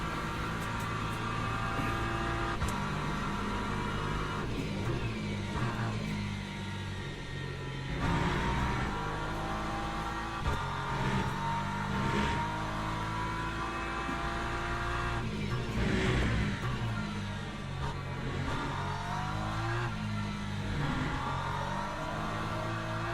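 An LMP3 prototype race car in Le Mans Ultimate drones past with a sustained, loud engine note that rises and falls through gear changes, blending with other cars' engines on track.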